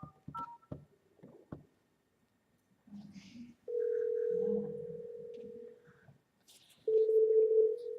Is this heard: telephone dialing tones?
yes